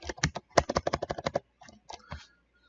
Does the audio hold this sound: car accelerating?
no